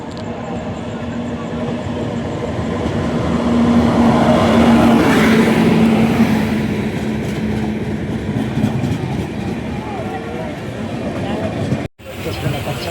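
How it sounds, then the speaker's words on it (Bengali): An Indian Railways passenger train rolls in at a station at night, a loud, sustained rumble of wheels and carriages with a rising, then fading whine and clatter, while people talk nearby. "ট্রেন আসছে আমাদের।"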